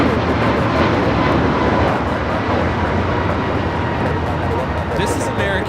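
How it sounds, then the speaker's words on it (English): American Airlines A321neo on its takeoff roll at Los Angeles LAX, a loud steady jet-engine roar filling the whole stretch without letup, with people talking faintly underneath. "This is American Airlines 591 taking off to Washington Reagan National on the A321neo"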